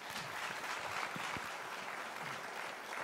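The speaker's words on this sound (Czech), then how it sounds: "Přivítejte je prosím potleskem" Steady applause from an audience in a village hall in Kozlovice during a 2019 concert, as a group from Corsica is welcomed, dense clapping held at an even level throughout.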